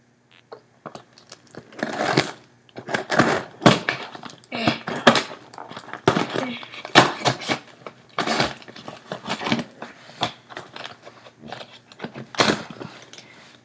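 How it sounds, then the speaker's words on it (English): Box cutter slicing through the tape and cardboard of a secret Santa package, a run of close, irregular scratchy cuts and crinkling bursts with short pauses between strokes. "My secret Santa package, which I'm going to open now."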